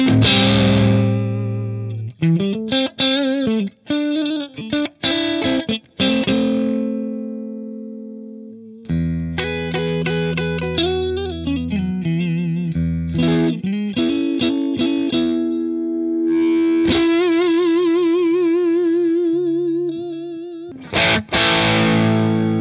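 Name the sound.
electric guitar through cranked Marshall JTM45 amp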